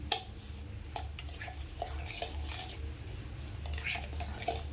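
A spoon scrapes and clinks around a bowl while sugar is mixed into soaked milk and bread for a caramel pudding, with soft, irregular stirring taps close by and no voices.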